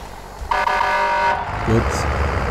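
A tank's horn honks in the video game Warzone, a single sustained toot lasting about a second over engine rumble, followed by a short lower blast, with a voice speaking near the end.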